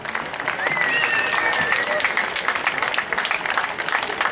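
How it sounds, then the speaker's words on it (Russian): Crowd applause at a beach volleyball Grand Slam match in Moscow, a steady wash of clapping from the stands with a brief whistle-like tone early on and a commentator's voice partly over it. "мы аплодируем нашим девушкам Александра Моисеева и Екатерина Сырцева."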